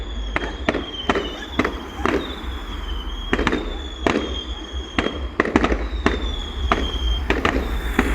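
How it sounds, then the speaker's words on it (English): A seaside fireworks display in Rhyl bursts overhead in a rapid string of sharp bangs, some with whistling trails, loud and repeated over a low crowd murmur and distant voices. "it's still a bloody good firework display"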